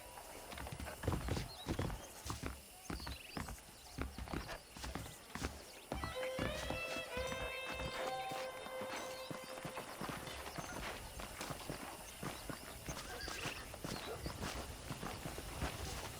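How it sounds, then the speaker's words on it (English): Horse hooves clip-clop steadily in Red Dead Redemption, joined midway by a clear, drawn-out neigh; constant outdoor game ambience sits underneath, with no speech. "I picked out a fine horse for you."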